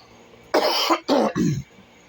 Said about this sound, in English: Trying to talk and I get a little tickle in my throat and made me coughing.